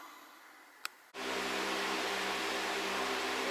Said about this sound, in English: The noise you can hear is the extractor fan blowing stuff away.